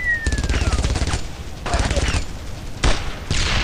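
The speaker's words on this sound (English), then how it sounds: "let's go get on the machine gun. It was much easier using the machine gun." Machine gun fire in the World War II shooter game Brothers in Arms: Road to Hill 30, sounding as loud sustained rattling bursts with short gaps between them.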